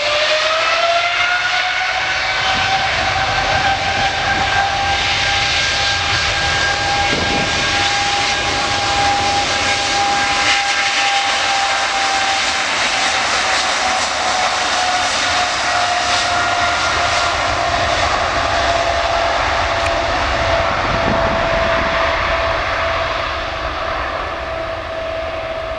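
An Emirates Boeing 777 takes off at Manchester Airport, its jet engines giving a loud, sustained roar with a rising whine that holds steady for the full stretch and fades slightly at the end.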